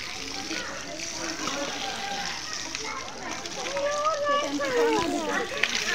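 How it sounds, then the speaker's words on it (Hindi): Water splashing as feet are washed at a temple during a Shravan Monday visit, steady pouring and splatter under adults and children talking nearby. "चलो बाबू पैर उर धो लो बेटा"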